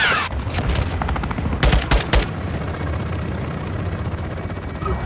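A helicopter gunship in Call of Duty: Modern Warfare II rakes a marked target with bursts of heavy gunfire, two short volleys clustered in the first seconds, over a constant rotor drone that continues afterward.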